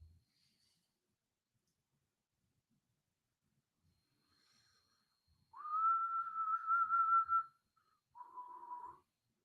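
A person whistles a tune from a song: a long, sustained, clear note, then a shorter, slightly lower phrase after a brief pause. The whistling is close and alone in an otherwise quiet room.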